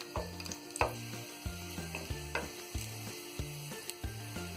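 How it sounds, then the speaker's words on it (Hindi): Garlic fries lightly in warm oil in a pan for an Indian street-food Chinese bhel, a soft continuous sizzle under a rhythmic tonal pattern with occasional stirring knocks, and nobody speaks. "इसे हम हल्का सा फ्राई कर लेंगे।"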